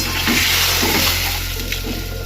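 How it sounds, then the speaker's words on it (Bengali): Water is poured into a cooking pot while making muri ghonto, a loud, continuous rushing splash with a few gurgling pulses, close by, with no talking. "জল দিয়ে দিলাম"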